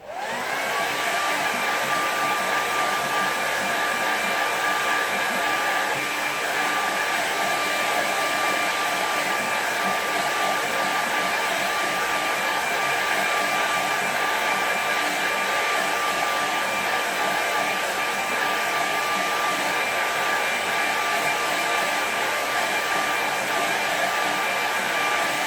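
A hair dryer quick-drying a watercolour snow landscape painting blows a steady, loud, close whir that holds unbroken for the whole stretch, with no voices.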